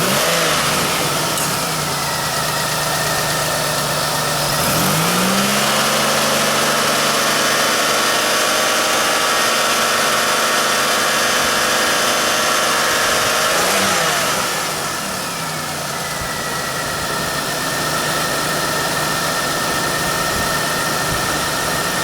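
A 2000 Pontiac Bonneville SE engine runs steadily and loudly at idle up close after carb cleaner was sprayed into an air hole, with two brief revs lifting the pitch before it settles back.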